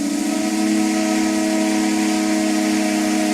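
A train horn in the Roblox game RO Scale Sandbox sounds as a steam-style whistle, one steady, loud, sustained chord that holds unbroken from start to finish.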